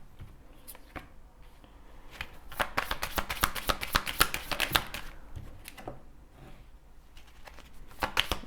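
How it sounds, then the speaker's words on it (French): Tarot cards being shuffled, laid out and handled during a reading, close and quiet, with a dense flurry of crisp card riffles and slaps in the middle and scattered soft taps before and after. "je vais bien mettre les cartes pour que vous voyez bien"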